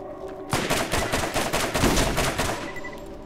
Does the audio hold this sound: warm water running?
no